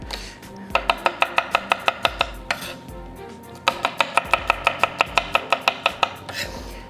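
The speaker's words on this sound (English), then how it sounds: "I'm also just gonna thinly slice a couple of garlic cloves in there" A knife slices a couple of garlic cloves thinly on a board, two quick bursts of rapid, evenly spaced chops, each around a dozen crisp close taps, separated by a short pause.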